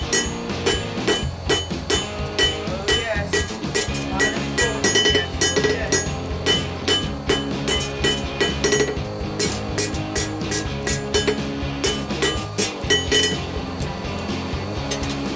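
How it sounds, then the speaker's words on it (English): Metal hammers clink and clank against one another as they are hung on a rack in a forge workshop, a quick, irregular run of bright ringing knocks, close by, with no talking. "Get those hammers on a hammer rack over here."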